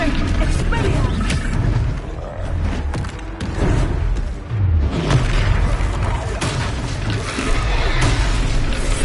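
Expelliarmus spell effect in Hogwarts Legacy during a troll battle: a dense, rumbling magical blast with booming low-end surges and creaking textures, loud and continuous across the whole stretch with no clear gaps.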